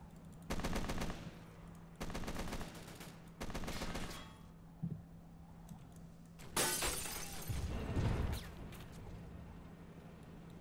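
Heavy .50 cal machine gun in a 1982 Falklands invasion mod game, firing in three loud sustained bursts followed by a dense crackle of gunfire and shattering impacts.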